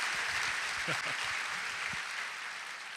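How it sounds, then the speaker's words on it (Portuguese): Faint, steady applause from an audience clapping for a communication team, a dense patter that holds evenly for a few seconds with a little voice murmur underneath. "Salva de palmas para a nossa equipe de comunicação que faz um vídeo desse, vai"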